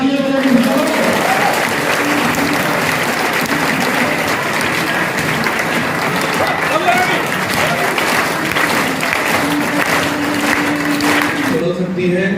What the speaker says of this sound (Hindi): एक बार दमदार तालियां बजाओ